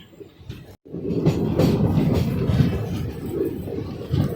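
A passenger train rolls onto the road-cum-rail bridge near Rajahmundry, a steady close rumble of wheels and carriage noise rising after a brief quiet pause and continuing evenly.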